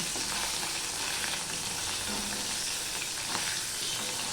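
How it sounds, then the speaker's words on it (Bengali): Murola fish frying in a pan: a dense, steady sizzle of hot oil that runs unbroken at close range, with faint soft knocks beneath it and no voices. "আমি এক এক করে মাছগুলো দিয়ে হালকা করে ভেজে নেব শুধু এদিক ওদিক করে দিয়ে উঠিয়ে উঠিয়ে নেব"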